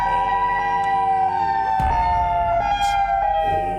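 EOWS 612 emergency siren sounds a loud, sustained electronic wail whose steady tone dips and shifts partway through, with no talk over it.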